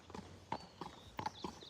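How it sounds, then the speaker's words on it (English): A licensed champion stallion's hooves clip-clop softly while he is being ridden, four or five distinct hollow beats at a steady walking rhythm, close and quiet, with no talk. "I'm riding Guapo"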